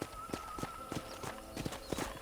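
Hoofbeats of a horse in the video game Red Dead Redemption, a quick uneven clip-clop of several hits, moderately near but quiet under a broad noisy game backdrop.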